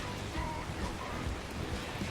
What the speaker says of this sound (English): This rain is actually not a bad weather effect.